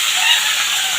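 Two tomatoes dropped into a hot pan of fennel-seed masala give off a steady, close hiss of sizzling that holds evenly through a brief moment, with no talking.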